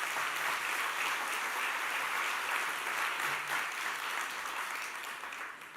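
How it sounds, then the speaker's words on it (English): Steady audience applause at a literary festival evening honoring a writer, an even wash of many hands clapping at moderate distance that tapers slightly toward the end. "Please give them a round of applause."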